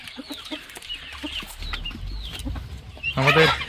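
Guinea fowl on a farm give repeated clucking calls at moderate distance, ending in a louder, harsher burst of calling.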